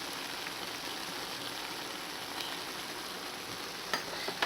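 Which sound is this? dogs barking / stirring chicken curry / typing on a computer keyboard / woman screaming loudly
stirring chicken curry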